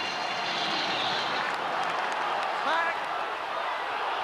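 A rugby crowd at the town end applauds, a dense, steady wash of clapping and cheering held at moderate distance under a commentator's voice.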